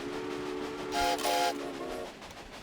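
Train running in the video game Railway Empire, a steady rumble topped by a short two-part whistle blast, fairly loud and close with no talk.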